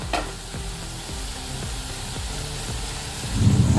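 Chopped tomato, capsicum and carrot sizzle in a pan for potato pulao, a constant frying hiss broken by rhythmic scrapes of a stirring spoon, rising to a louder burst of sizzle near the end.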